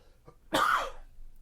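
A man on a Texas ranch gives a single short, rough cough after a faint throat sound, close and fairly loud, with no talk.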